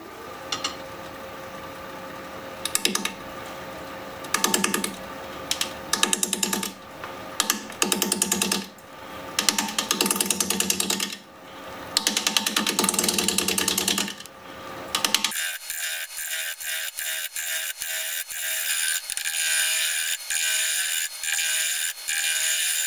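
Pear wood is turned on a lathe with a 5/8 inch bowl gouge, giving bursts of rough cutting noise broken by pauses, then a long steady high-pitched shaving whir in the last third.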